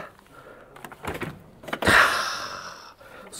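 A side case on a 2022 Honda Gold Wing 1800 DCT touring motorcycle opens at a button press: a short mechanical release and a soft, brief whoosh-like sweep as the lid lifts, close and moderately loud with no talking.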